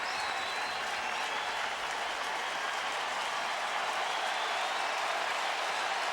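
A capacity baseball crowd at Petco Park during a Red Sox vs Padres game roars and cheers in a continuous dense wash of noise, steady and loud from start to end.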